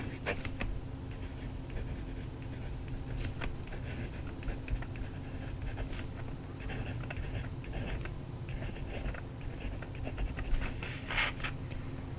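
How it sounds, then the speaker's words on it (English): Pen nib scratching across smooth Tomoe River paper, a soft continuous scritch with small strokes and pauses, close and quiet over a faint low hum. "So let's take a look at writing on the Tomoe River paper."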